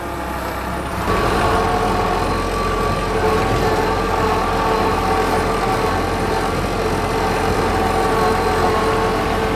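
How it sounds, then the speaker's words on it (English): A tractor touring a homestead property: after a quieter first second the engine rumbles in loud and close, then holds a steady, droning roar to the end with no talking. "now we're gonna go for a little tour of the property via tractor"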